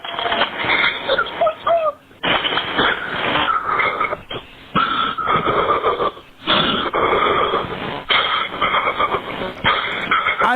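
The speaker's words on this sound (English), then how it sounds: "don't see how anybody can hear that breathing and not hear panic and hyperventilating" Ragged, panicked hyperventilating breaths heard over a recorded emergency phone call, loud and band-limited like a telephone line, coming in rapid bursts with brief pauses between them.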